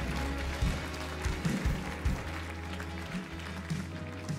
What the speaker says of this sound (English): Somebody give the Lord a clap offering of praise.